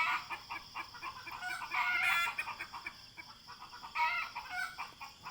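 Small bantam chickens clucking repeatedly in short bursts, with a louder rooster-like call partway through, close by and without talk.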